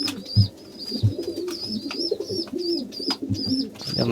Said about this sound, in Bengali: আমাদের কবুতর গুলা